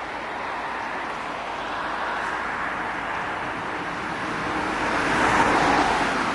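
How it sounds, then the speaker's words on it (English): Busy road traffic passes along Royal Deeside beside a roadside path, a continuous broadband rush of tyres and engines that swells slightly louder toward the end, with no voices. "It's busy with traffic."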